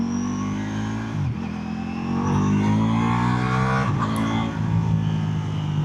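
A 2026 Ducati Panigale V4 engine revs close by, its harmonic growl climbing steadily in pitch and broken by two short throttle dips before surging again, loud and continuous with no talk.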